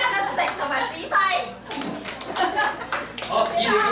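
Hands clap in a light, uneven burst at a small family gathering, children's voices and adult chatter running over and between the claps.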